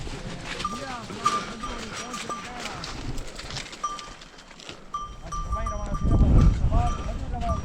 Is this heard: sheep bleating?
yes